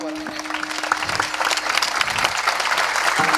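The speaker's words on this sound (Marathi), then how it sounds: "दादा 2 मिनिट उठून उभे राहायला यांच्यासाठी एकदा जोरात टाळी वाजवा" An audience at a Marathi kirtan bursts into loud, sustained clapping that fills the whole moment, a dense crowd applause with a faint tonal hum beneath.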